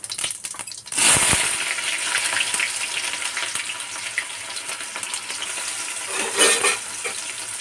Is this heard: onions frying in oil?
yes